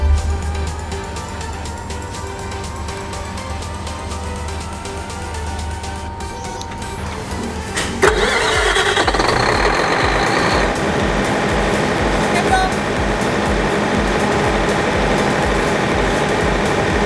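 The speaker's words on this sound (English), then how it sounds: "we're going to start the engine" A steady engine hum runs, then a heavier generator engine roars to life partway through and keeps running loudly.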